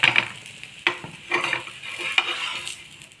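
A red dosa sizzles and crisps on a hot pan, with a crackling fry hiss broken by several sharp scraping strokes of a spatula against the metal. No one speaks.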